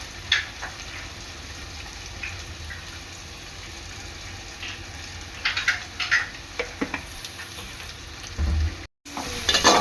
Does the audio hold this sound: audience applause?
no